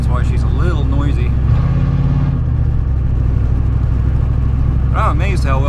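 A 1990 Ford F350 with a 7.3 IDI diesel and its exhaust cut off under the cab, loud rough engine noise heard while driving, with a rising pass of engine pitch and a voice talking over it.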